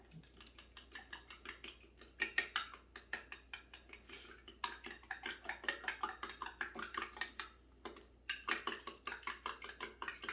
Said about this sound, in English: I'm going to mix it really well